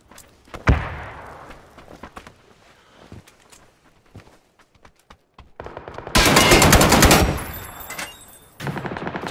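Gunfire in the video game PUBG: a sharp early shot and scattered lighter cracks, then a loud sustained burst of automatic fire, followed by more shots near the end.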